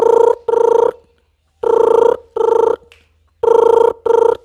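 A voice imitates a telephone bell ringing at a police station, with three loud double rings, each pair of short tonal bursts separated by brief silence.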